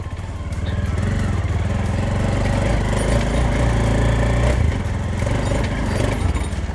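Motorcycle engine running steadily as it is ridden along a rough, wild dirt road in the rain in Dhading, Nepal; a close, loud, continuous drone with small surges in revs and no talk.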